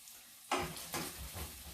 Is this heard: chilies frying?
yes